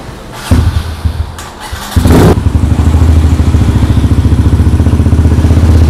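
Kawasaki KLX/DT 150 with a stock engine and a PE28 carburetor being started: a few clattering starter attempts, then the engine catches and settles into a loud, fast, even idle thump, recorded up close with no speech.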